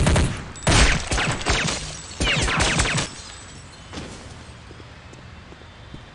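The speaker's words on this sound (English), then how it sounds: "Did you hear all those gunshots?" Rapid bursts of Counter-Strike: Condition Zero Deleted Scenes gunfire crackle in a few volleys over the first three seconds, then a lone shot and fading echoes, with no talking.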